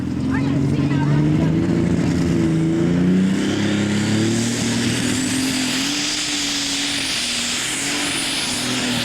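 A heavy truck or tractor engine roars steadily at a 2000 Imlay City truck and tractor pulling event, with a deep, rumbling drone that shifts pitch, loud and continuous, with a crowd or announcer faintly beneath.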